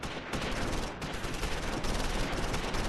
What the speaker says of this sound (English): We got 5 teams shooting at like 2 or 3 dudes in the open.